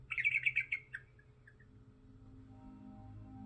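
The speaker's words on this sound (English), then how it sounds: "Birds chirp all around." A bird lets out a quick run of bright chirps, then a few softer isolated notes, before a faint low hum takes over.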